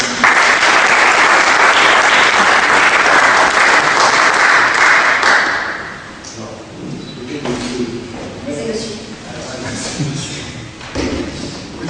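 Loud, dense audience applause at an awards evening for a first-prize winner in the insurance category, sustained for about six seconds before thinning into scattered claps and faint background murmur.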